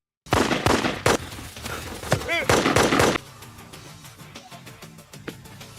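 A burst of rapid gunfire cracks out in a tense prison escape film scene, loud and sharp, with shouting mixed in, before it drops abruptly into a quieter background with faint lingering noises.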